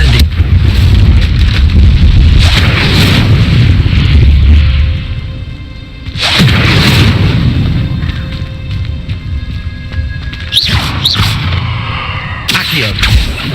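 Repeated casts of the Incendio fire spell in Hogwarts Legacy, rumbling whooshes of flame and crackling bursts recurring over several seconds amid game effects, with brief spoken words.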